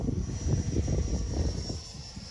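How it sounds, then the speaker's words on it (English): An electric-converted CY Models 100-inch Cessna Bird Dog RC plane flies overhead while rolling, its motor and propeller making a steady drone that swells and then fades slightly, with no talk. "Plane flies nice."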